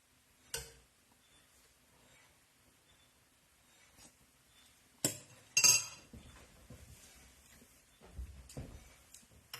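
A metal spoon clinks against a pot of simmering chili made from leftover meatloaf, with a few sharp, close taps and scrapes spaced out against a quiet kitchen background.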